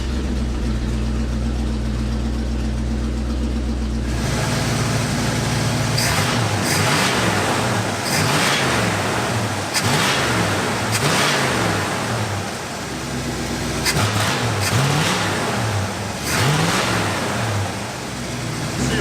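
A big V8 engine in an Oldsmobile Cutlass muscle car, back running after 33 years in storage, cranks and catches, then idles roughly and revs repeatedly in loud bursts, close by, with no talking.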